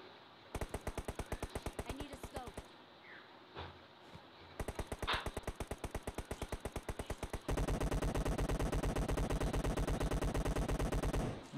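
M416 rifle fired in full-auto sprays in a shooting video game: bursts of rapid, evenly spaced shots, a brief pause, another burst, then a long, loud, unbroken stream of gunfire to the end.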